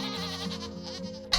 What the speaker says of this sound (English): The sheep, the goats. They're goats, aren't they?